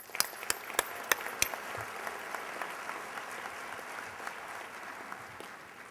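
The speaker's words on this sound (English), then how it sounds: "Please join me in welcoming them with a round of applause." An audience at a regional economic summit bursts into applause, beginning with a few sharp distinct claps that quickly blend into a steady, fairly dense round of clapping lasting several seconds.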